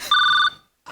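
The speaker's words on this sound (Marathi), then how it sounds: "रिंग जाते मॅडम." A telephone rings with a bright electronic two-tone ring that sounds for about half a second, falls silent and then starts again, loud and close.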